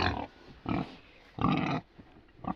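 Pigs on a farm grunt in three loud, close bursts with short gaps between them, followed by the start of a fourth at the end.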